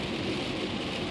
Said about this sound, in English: It's raining like a mother,